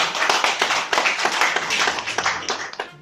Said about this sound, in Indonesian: Tepuk tanganlah buat Telkom Group.